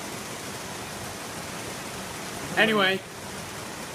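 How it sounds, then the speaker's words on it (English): Rain falling outdoors as a constant, even hiss that fills the whole stretch, with one brief spoken word near the end. "just listen to that. It's a bit rainy, mate."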